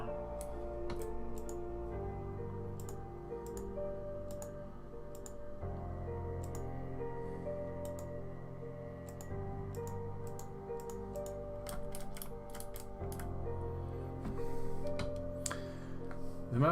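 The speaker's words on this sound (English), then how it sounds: "We use a mechanical keyboard, and I really like it" Fingers tapping on a mechanical keyboard: scattered crisp clicks in uneven bursts over a steady background of tonal music, loudest near the end.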